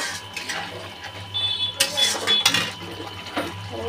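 Half-boiled potatoes go into a cooking pot with a few clinks and knocks of metal and utensils, close and moderately loud, with someone speaking softly.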